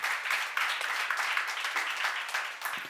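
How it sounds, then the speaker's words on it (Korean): A church congregation claps during a sermon, many hands together in a bright, continuous patter that holds evenly and tapers slightly toward the end. "하나님의 영광을 받으실 걸 믿는 사람만 박수주세요."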